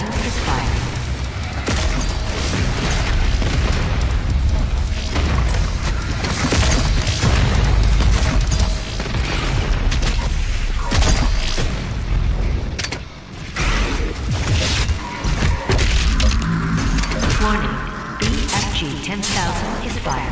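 Enemies in DOOM Eternal fire rapidly in a relentless, loud barrage of mechanical shots, crashes and booms over about twenty seconds, with a brief lull partway through and a voice present in the mix.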